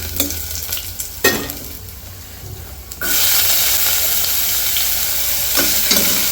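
Cumin, mustard seeds, curry leaves and garlic fry in hot oil, with stirring and spoon scrapes in the first half, then a loud, steady crackling sizzle surging up at about three seconds and holding to the end.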